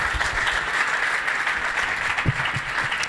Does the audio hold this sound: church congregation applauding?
yes